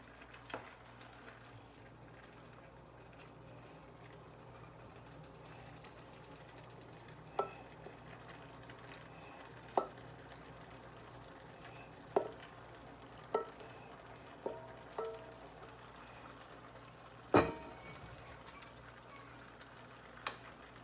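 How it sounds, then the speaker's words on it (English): A low-carb stir fry simmers under a lid, giving a steady soft sizzle with scattered sharp ticks and clicks over about twenty seconds, with no talk. "cover it with a lid and let it cook down"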